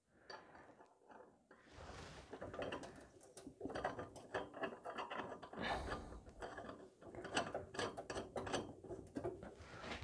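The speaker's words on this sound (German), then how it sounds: "Und schraubt die händig drauf, dass das Rohr nicht mehr verrutschen kann." End caps are screwed by hand onto the tube of a paper towel holder, giving a steady run of close ratcheting, grinding plastic clicks that stops and starts briefly before twisting continuously.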